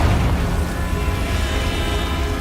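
Confringo explosion spell in the video game Hogwarts Legacy, a steady booming, crackling blast with a low rumbling roar, loud and sustained, no voices.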